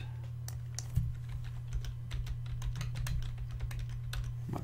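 Username and password typed on a computer keyboard, a rapid irregular run of close, crisp keystrokes over a steady low hum, with no talking.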